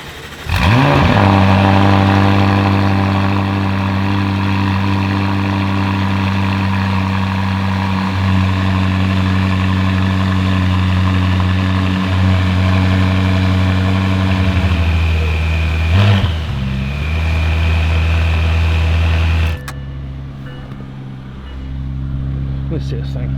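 A McLaren 570S with valved exhaust and high-flow downpipes idles with a deep, throaty exhaust drone, blipping louder near the end before dropping back to a low rumble.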